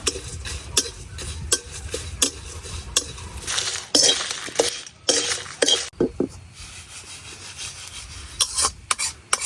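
Ground coriander dry-roasting in a pan for a raw tamarind chutney, stirred with a spatula in repeated scraping, rubbing strokes and occasional metallic clinks, close and fairly loud with no talk.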